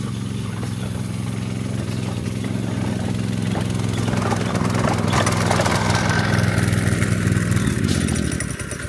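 An MB Ranchking Avenger deer feeder's spinner motor runs on a test, giving a steady, close, buzzing whir that holds at a constant pitch and rises slightly in intensity before cutting off at the end.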